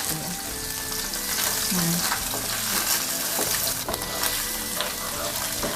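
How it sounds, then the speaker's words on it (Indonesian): Egg tofu sizzles in oil in a wok over medium-high heat, a steady crackling fry with occasional stirring scrapes, while a person talks briefly over it. "Goreng tahu telur pelan-pelan sampai matang ya"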